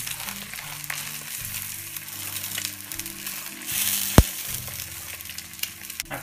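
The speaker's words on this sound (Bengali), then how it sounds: "এখন আমরা চুলার আঁচটা একটু কমিয়ে দিয়ে অল্প আঁচে কিছুক্ষণ ভাজি করব।" Egg, sausage and bread fry together in a pan with a continuous, moderately loud sizzle and scattered crackles, one sharp pop near the end, over a low musical background.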